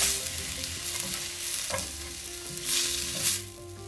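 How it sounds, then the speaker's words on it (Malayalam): Sliced onions sauté in a pan with turmeric and salt for a Kerala-style chicken curry, a steady close sizzle with scraping stir strokes throughout and no voices. "ഇനി ഇതിലേക്ക് 1/2 ടീസ്പൂൺ മഞ്ഞൾപ്പൊടി, 1/2 ടീസ്പൂൺ ഉപ്പ്, ഇത് രണ്ടും കൂടെ ചേർത്ത് നന്നായിട്ട് വഴറ്റണം."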